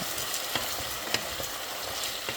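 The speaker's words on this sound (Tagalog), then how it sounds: "Unahin nyo muna yung potatoes and carrots. Pan fry lang for 2 minutes." Potatoes and carrots pan-fry for pork menudo with a steady, close sizzle. Faint stirring clicks sound through it now and then.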